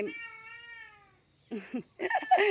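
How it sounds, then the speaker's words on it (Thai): A stray cat meows: one long drawn-out cry, a brief pause, then several shorter, sharper meows close by and fairly loud, with no talk. "มะเหมียวมะเหมียว แมวจรแมวจร"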